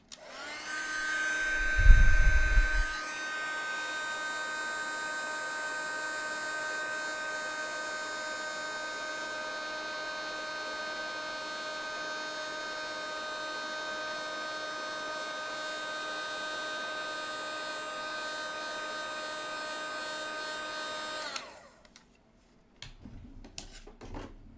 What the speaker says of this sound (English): now I'm going to take my heat tool again and heat it up